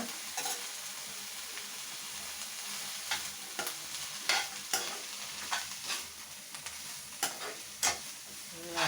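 Mint and coriander leaves are sautéed in a pan, giving a soft steady sizzle with repeated faint scraping stirs of a spatula throughout, quiet and without talk.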